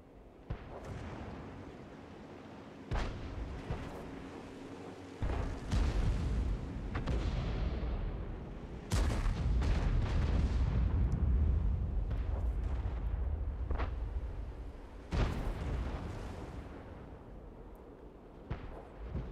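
Artillery in World of Tanks firing high explosive shells: deep booming blasts rolling out at irregular intervals, loud and close, with sharp cracks and rumbling aftershocks and no speech.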